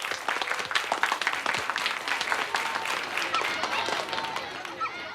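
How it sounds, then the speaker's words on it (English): Applause from an audience, children among it, for a performer named Alan, fairly faint and continuous with dense, irregular claps and some voices mixed in. "Give him a big round of applause."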